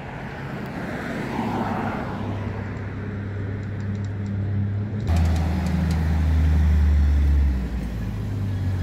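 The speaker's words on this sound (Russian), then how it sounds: "Пустой автобус поехал." An empty city bus pulls away on a street at Old Post in Chisinau, its engine drone rising and swelling loudly for several seconds amid traffic noise.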